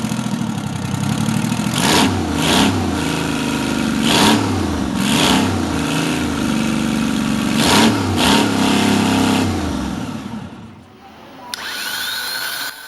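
A Detroit Diesel Series 71 two-stroke diesel engine runs loud and near, its deep rumble rising and falling through several revving bursts before cutting out toward the end.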